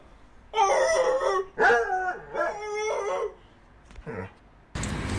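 A dog gives several long, loud, close howls, then short barks and yips, followed by a burst of broadband noise at the end.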